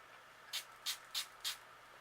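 Four quick, evenly spaced spritzes of water from a spray bottle onto a watercolor background on clear blocks, each a short, crisp hiss in a quiet room.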